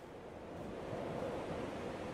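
Water waves in the video game Dear Esther, a soft, continuous wash of surf rising slightly in loudness, with broad airy noise and no talking.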